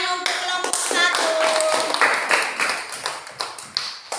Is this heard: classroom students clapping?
yes